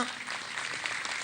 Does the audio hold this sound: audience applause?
yes